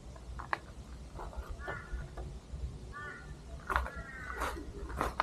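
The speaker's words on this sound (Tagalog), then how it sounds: "mga huni ng ibon at mga iba't ibang uri pa ng mga huni ng hayop" Several crows caw in short bursts over faint outdoor ambience in an Australian nature reserve, the calls scattered and moderately distant.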